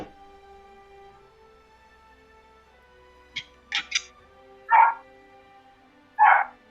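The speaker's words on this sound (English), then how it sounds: "We could hear the barking" Dogs bark in a handful of sharp, separate bursts, a couple of quick yips followed by two louder, fuller barks, set against a faint tonal hum with no voices.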